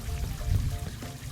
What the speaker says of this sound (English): now you got your hot water on the outside shower